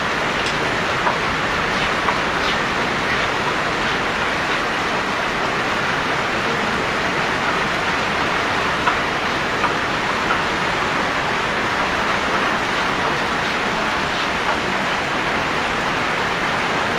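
Heavy rain pours steadily in Chandpur, a dense, even roar of water hitting surfaces that holds constant and loud throughout, with no voices.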